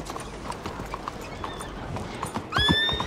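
A horse in Red Dead Redemption 2 clip-clops along at a gallop amid game ambience, then lets out a loud whinny near the end as it bolts away.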